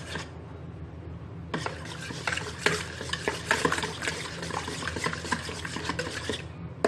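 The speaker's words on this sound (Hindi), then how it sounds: "एक विस्क की मदद से हम इसको अच्छे से मिक्स करेंगे" Yogurt marinade with white vinegar for restaurant-style chicken tikka being whisked in a bowl, a steady run of quick clinking, scraping strokes that starts after a short pause and continues close up without talk.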